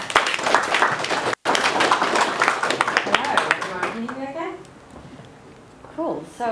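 Dense clapping from a meetup audience at a London DevOps event fills the first few seconds, then fades as a single voice begins speaking nearby.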